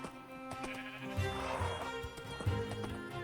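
Sheep bleat several times over a busy background of Minecraft Feed the Beast modpack music and ambient noise, moderately loud with overlapping calls.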